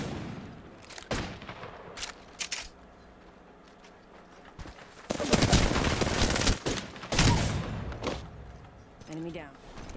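Video game gunfire crackles in sharp, scattered bursts, with a denser, louder volley in the middle and a final rattle near the end, over quiet ambience and low voices.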